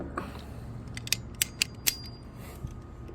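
Several sharp metallic clicks from a torque wrench ratcheting a bolt tight on a 2.4L GMC Terrain during an oil change, four distinct close clicks spaced evenly with light mechanical creaks around them.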